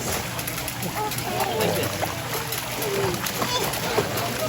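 A child splashes in a pool while kicking their legs during a swimming lesson in Tagaytay, with continuous close splashing and sloshing water under steady adult talk.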